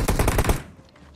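Automatic gunfire from a rifle in the mobile battle-royale game PUBG Mobile, a loud rapid burst of closely spaced shots lasting about half a second before fading into a quiet tail.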